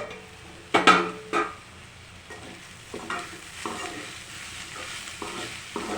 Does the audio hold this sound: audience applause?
no